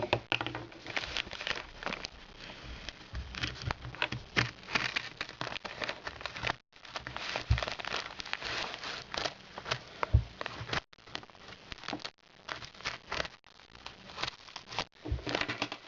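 A New Year gift being unwrapped up close: continuous rustling, crinkling and crackling of wrapping paper with brief pauses, faint and steady throughout.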